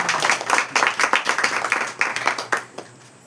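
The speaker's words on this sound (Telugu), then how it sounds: "చప్పట్లు కొట్టండి ఒకసారి" A congregation at a Telugu Christian sermon breaks into a short burst of clapping. The dense, close applause lasts a few seconds, then thins out and fades.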